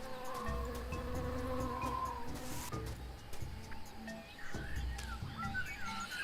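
Buzzing bees fill a noisy jungle in the adventure game Tales of Monkey Island, a wavering insect drone with chirps and calls layered over it, moderately loud and continuous.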